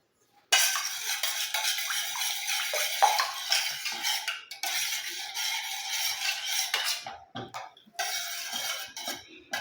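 A homemade black hair oil is mixed in a bowl with a metal utensil, making loud, continuous scraping and clinking against the bowl, with a few brief pauses near the end.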